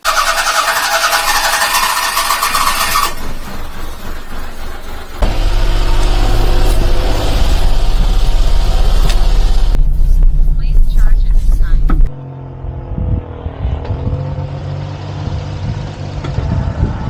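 A micro van cranking and starting, then idling and driving off, its engine note loud and close with a steady rumble, shifting as it pulls away, with some squealing and a voice now and then.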